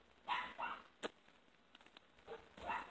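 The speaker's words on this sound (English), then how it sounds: "Dog barking in the distance." A few short dog barks, moderately loud, separated by pauses with some light clatter between them; no one speaks.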